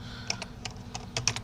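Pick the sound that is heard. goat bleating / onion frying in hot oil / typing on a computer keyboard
typing on a computer keyboard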